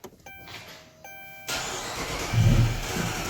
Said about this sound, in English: I'm just going to start it real quick, just make sure everything starts up